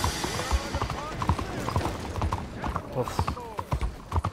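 Horse hooves clip-clop in the video game Red Dead Redemption 2, a steady rhythm of close, crisp hoofbeats with a short vocal grunt and game sounds mixed in.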